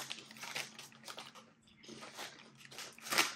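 Someone bites into and chews a crunchy, smoky-flavored New Zealand potato snack close up, with soft repeated crunches and chewing that rise to a sharper crunch at the end.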